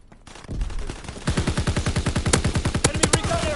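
Rapid video game shotgun and automatic gunfire rattles in a fast, steady burst of closely spaced loud shots after a brief quieter opening, with a few sharper cracks near the end.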